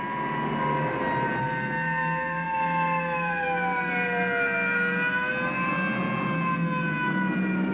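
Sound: police sirens approaching

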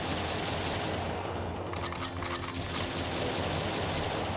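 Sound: pistol gunfire in the video game Jack Styler

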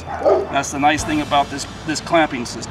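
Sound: dogs barking

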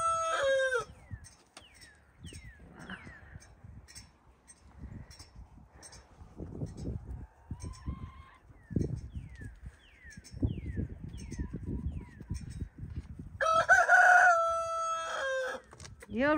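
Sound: chicken crowing and clucking

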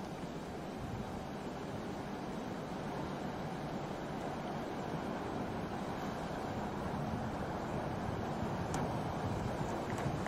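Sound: wind outdoors in a forest

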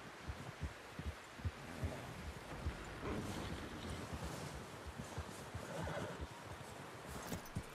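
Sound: horse neighing and hooves in video game Red Dead Redemption II

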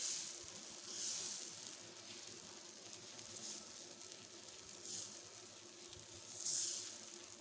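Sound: dosa batter sizzling on hot pan

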